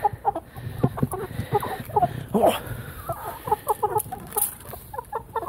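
Mechelen hens and roosters cluck in short, irregular bursts inside a farm coop, close and clear, with no talking over them.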